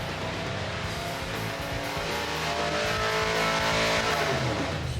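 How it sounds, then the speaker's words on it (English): A hot street engine run on a dyno at a racing shop, a loud sustained mechanical roar with a rising tone that builds steadily in pitch and intensity over about five seconds. "we went to a racing shop and threw them into a hot street engine on the dyno"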